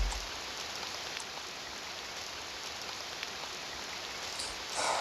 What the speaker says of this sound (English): That is one resilient rain.